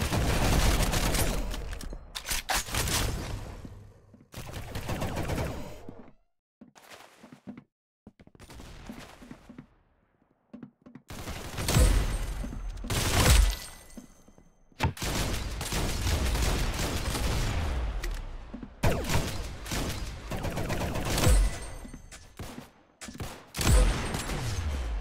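Gunfire in the Roblox Arsenal video game, loud close bursts of rapid shots in several long volleys separated by brief quieter gaps, with booming low-end hits.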